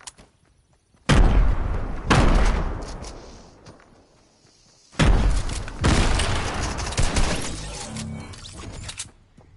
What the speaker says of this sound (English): I'm throwing grenades inside.